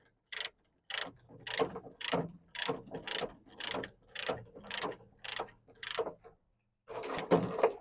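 A ratchet binder knob on trailer tie-down gear is turned to loosen it, giving about nine evenly spaced ratcheting clicks, followed by a louder longer burst at the end.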